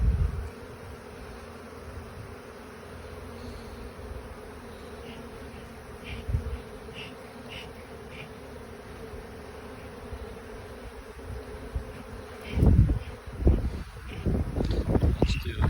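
Honeybees in a newly transferred hive, a continuous close humming buzz underneath, with handling knocks and bumps of the hive toward the end.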